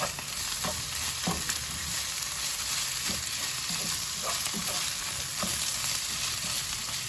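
Karnıyarık ingredients sauté in a pan with a continuous close frying sizzle, punctuated by intermittent spatula scrapes and stirring clicks.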